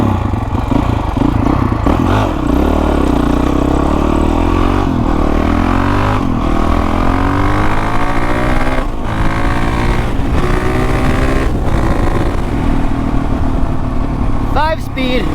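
A 20-year-old Honda CRF450X dirt bike with an FMF exhaust pipe idles and revs loudly up close, its engine note rising and falling steadily under continuous talk, with some clatter.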